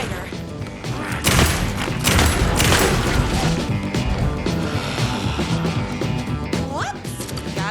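Gunfire in the video game Night Springs: loud, rapid bursts of shots crowd together over other busy game sounds.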